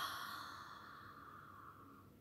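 A slow, deep exhalation during a guided meditation for young schoolchildren, a soft breathy rush that fades gradually over about two seconds, close and alone with no talking.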